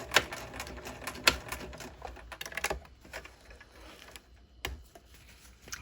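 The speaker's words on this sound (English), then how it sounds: "And I'm going to back stitch on the ends." A sewing machine back-stitches at the ends of a French seam in quiet, uneven mechanical bursts, with clicking, whirring runs and short pauses between passes.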